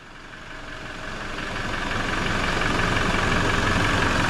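A vehicle engine idles steadily after servicing, warming up before an oil drain, with a fuel filter just changed; a continuous near, mid-level rumble that grows slightly louder over a few seconds and runs alone.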